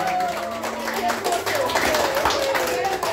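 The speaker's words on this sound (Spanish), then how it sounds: "El aplauso es para ustedes, María." Applause from a small group at a birthday party with a youth mariachi band, scattered hand claps mixed with tapping and movement, with a voice talking and faint tonal sounds underneath.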